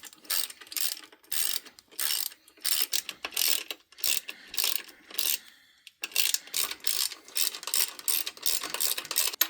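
A ratchet wrench tightens a self-locking nut on the front spring of a 1994 Jaguar XJS V12 facelift. Rapid bursts of close, crisp clicking repeat in steady strokes with short pauses between them.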